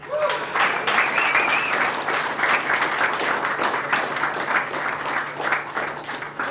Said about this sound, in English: can we have a big round of applause for Abby Lutton?